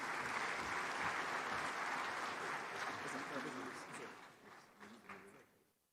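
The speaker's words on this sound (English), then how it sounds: "One more time, a resounding round of applause." Conference audience at the Afreximbank Annual Meetings applauds after the Bahamas Prime Minister's speech, a full round of clapping with voices mixed in, fading out toward the end.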